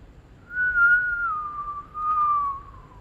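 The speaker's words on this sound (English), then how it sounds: "Now whistle." A person whistles a single sustained, wavering tone that slides gently downward, clear and fairly close, heard alone against a quiet background.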